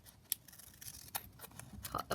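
Scissors snip through a paper envelope, making a few crisp, close cuts separated by soft rustling of the paper.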